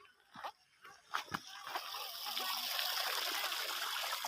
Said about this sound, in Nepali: यो 12 महिना यो पानी यसरी बगिरहन्छ।